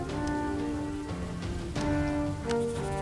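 Rain falling steadily in a fantasy drama scene, a constant hiss under sustained musical tones, with a few sharper swells and accents over the top.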